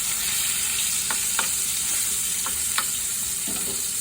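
Hilsa fish fries in a pan with a constant, loud sizzle, joined now and then by sharp clinks and taps of a utensil against the pan.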